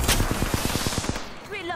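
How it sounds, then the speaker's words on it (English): Gunfire in a shooter video game, a rapid burst of about ten automatic shots in quick, even rhythm, followed by a brief electronic chirp as the firing stops. "Getting shot at."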